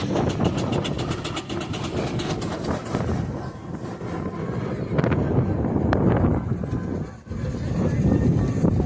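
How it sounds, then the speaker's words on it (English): An old steam engine built in Northampton in 1906 rolls past at a steam rally parade in Whitby, producing a loud, continuous heavy rumble and chuffing churn, with wind buffeting the microphone. "An old machine going through there, that machine built in Northampton, 1906."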